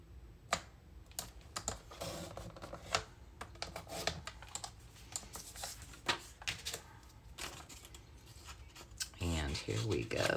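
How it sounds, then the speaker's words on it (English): Scissors cutting paper for a junk journal envelope, a run of quick crisp snips and rustles at close range, with soft handling noises and a brief voice near the end. "So we'll just cut this really fast."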